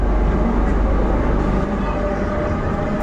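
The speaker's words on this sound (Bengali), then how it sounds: "কবি নজরুল থেকে আমাদের মেট্রোটা ছেড়ে দিল" From inside the carriage, a metro train rolls out of Kavi Nazrul station with a steady, loud low rumble and hum that fills the whole moment, unbroken and close.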